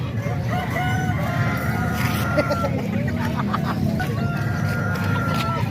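Several roosters crow loudly in layered, overlapping calls while hens cluck steadily beneath, a dense and constant barnyard chorus at close range.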